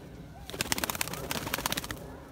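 Pigeons in a flight coop aviary make a close, rapid burst of fluttering clatter and calls that starts after a quiet moment, peaks in the middle and fades near the end.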